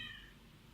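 A house cat gives a single short, faint meow indoors, brief and soft against a quiet room background.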